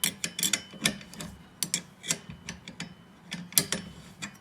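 A spanner tightens a bolt on a bike trainer, making a quick run of sharp metallic ratchet clicks at an uneven rhythm, close and clear, with no talking.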